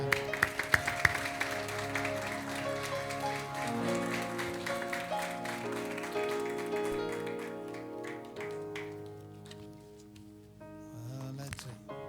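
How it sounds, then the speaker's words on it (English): A church congregation at a children's dedication service claps, sharp handclaps loudest at the start, blended with sustained organ or keyboard chords that carry on and fade as the clapping thins. "Give the Lord a clap up."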